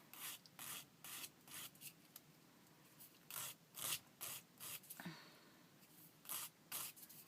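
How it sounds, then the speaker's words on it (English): A hardened, dried rolled-paper bead end is filed by hand in repeated short rasping strokes, soft and close, with brief pauses between strokes and no talk. "So I keep filing it."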